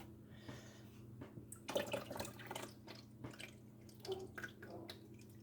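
Faint splashing and trickling of pond water full of duckweed poured into a paludarium tank in uneven gurgling bursts over a low steady hum, close by.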